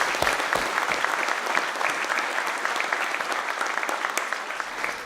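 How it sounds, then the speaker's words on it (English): Audience applause during a city's State of the City address, a full room of steady clapping that holds strong for about five seconds, close and loud with no talking over it. "I think that deserves applause."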